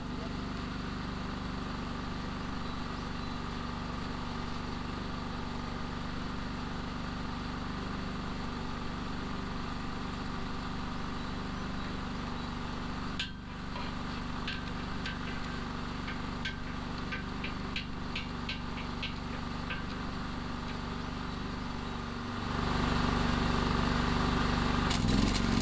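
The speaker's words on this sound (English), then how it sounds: "So get the welder started up, weld that on." An engine-driven welder drones steadily and close while welding a homemade 900 kg log arch trailer. A few faint crackles come through around the middle, and the engine grows louder near the end.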